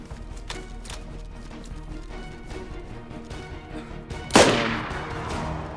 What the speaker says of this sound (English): Is that you shooting or them?